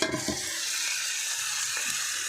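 A tempering for drumstick leaves sizzles and spatters in hot oil, with a couple of stirring scrapes at the start and a steady close hiss beneath.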